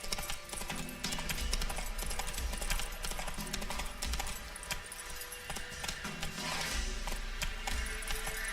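Roach the horse's hooves in The Witcher 3, a steady run of clip-clop hoofbeats close by, mixed with jangling tack and ambient game sounds.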